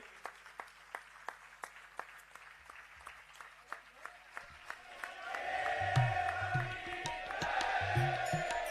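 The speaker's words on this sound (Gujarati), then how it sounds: "એક વખત હાથ તાળી નાથથી આ સમસ્ત યુવાનોને વધાવી લઈએ" Crowd applause at a youth association's tenth-anniversary festival, honouring young men offering a hundred-foot garland. Sparse, evenly spaced claps at first, then building into sustained clapping from a gathered audience with faint background voices.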